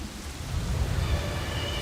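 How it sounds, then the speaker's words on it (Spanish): Steady rain falls in a dense, even hiss, close and continuous with a low rumbling undertone. "Las nubes se condensan y se vuelven gotas de lluvia"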